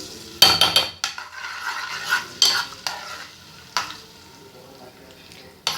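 Crushed garlic sizzles and crackles in hot ghee for a moong dal tadka, with a few sharp bursts of stirring and a spoon scraping against the pan, close by and fairly loud.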